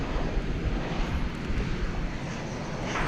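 A jet airliner taking off from runway 18 left at DFW Airport, a steady low rumbling roar with wind buffeting on the microphone, sustained throughout.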